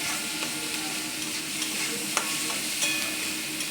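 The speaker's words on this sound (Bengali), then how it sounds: "দেখো, লাল লাল করে ভেজে নিচ্ছি।" Onions fry in hot oil in a pan with drumstick greens, a close, steady sizzle broken by occasional clinks and scrapes of a spoon stirring.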